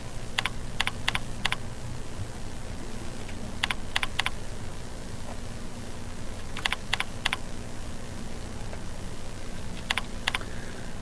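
Bursts of keystrokes on a computer keyboard, tapped in quick clusters of four or five with pauses between, fairly close over a steady low background hum.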